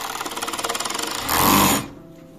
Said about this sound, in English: I will sew all the pieces together